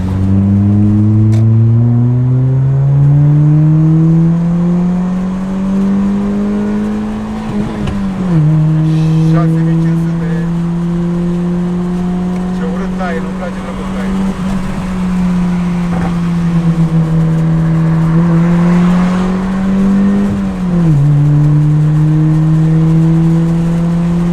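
A Honda Prelude accelerating hard and revving, its engine note climbing steadily through the gears with two clear shift drops, loud and close throughout, as a voice talks over it.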